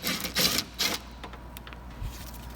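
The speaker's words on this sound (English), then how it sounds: "used a 10mm socket and take that bolt out" A 10mm socket on a ratchet backs out a bolt holding the run channel inside a Honda Accord rear door. A few close, loud clicking bursts are followed by quieter mechanical rattling, with no speech.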